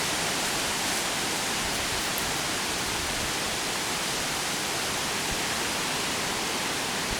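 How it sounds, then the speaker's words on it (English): Wind blowing outdoors, a loud continuous broadband rush with gusty buffeting, like wind striking a microphone, steady throughout with no voices. "Let's see if this video picks up the wind sound."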